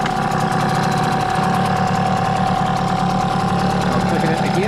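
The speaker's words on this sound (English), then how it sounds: "So let's get it fired back up." Hangkai 6hp two-stroke outboard motor running steadily in neutral, a continuous buzzing drone with a steady whine, close and loud, with talk over it.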